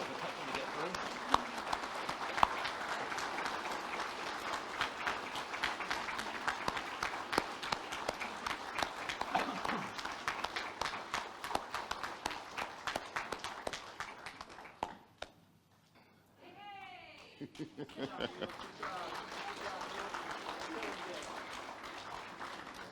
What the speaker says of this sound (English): Ladies and gentlemen, keep the applause going and congratulate our 2024 Valor Award recipients